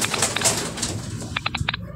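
Pigeons coo in short soft bursts against a busy background of rustling and chatter, with a few brief higher calls near the end.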